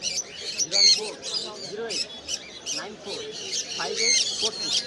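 A dense chorus of many birds at a bird market in Mirpur, Dhaka squawks and chirps at once, a busy overlapping racket with people talking underneath.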